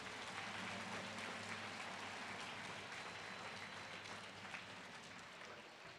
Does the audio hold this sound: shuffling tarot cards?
no